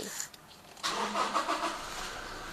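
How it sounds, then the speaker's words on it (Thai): A 2016 Toyota Revo 2.4E four-door raised pickup cranks briefly, then its engine catches and settles into a steady idle, heard close and alone. "ทำการสตาร์ทให้ดูก่อนเนาะ"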